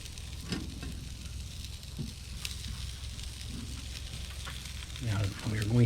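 Zucchini boats sizzle on the hot side of an outdoor grill, giving a steady, close frying hiss with scattered pops that swells near the end.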